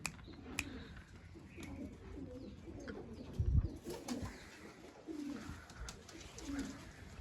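Pigeons coo softly nearby, with low repeated coos and a few chirps over a light background murmur of people.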